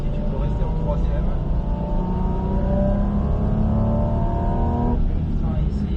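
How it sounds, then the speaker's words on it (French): A car powers out of a corner on the Bresse circuit, its engine note loud and close, rising steadily through the revs in one long pull before easing near the end, with an instructor talking over it. "On élargit bien sur la gauche et on accélère progressivement ici"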